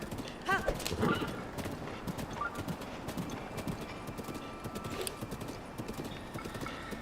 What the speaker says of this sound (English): I don't know why I thought the horse would just be able to run right over that.